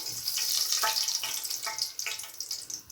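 Mustard seeds crackle and sizzle in hot oil in a home kitchen pan for tomato gojju, a steady soft fry with scattered sharp pops and spits, fairly close and quiet with no talking.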